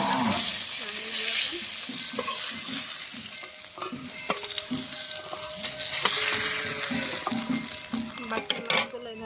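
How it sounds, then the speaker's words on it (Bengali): Fish fry in mustard oil in a wok with a steady sizzling hiss, broken by stirring and scraping from a utensil against the pan and light clinks of cookware. "বাকি মাছগুলো এইভাবে ভেজে নেব"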